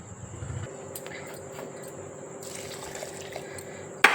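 Water runs steadily into a container for dosa batter, making a continuous trickle and splash that ends with a sharp clatter.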